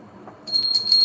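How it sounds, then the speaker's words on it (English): A bell rings with bright, sustained metallic tones that begin abruptly partway in and repeat in quick strikes, clear and close with no talk over it. "Ring the bell for Warren."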